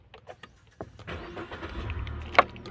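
A car engine starts during a driving licence test, with a few faint clicks and knocks before the motor catches and settles into a low, quiet idle, followed by a sharp brief click.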